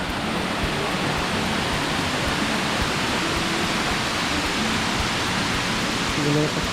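Rushing water pours continuously at Arikkal waterfall, a broad, loud, even roar heard up close, with a voice faintly present beneath the torrent.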